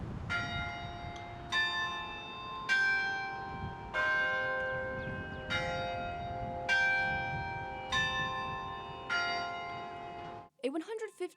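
Bells ring in the NC State bell tower, a granite campus tower at Hillsborough and Pullen Road, with about eight resonant strikes spaced evenly, each note ringing into the next before a brief burst of noise at the end.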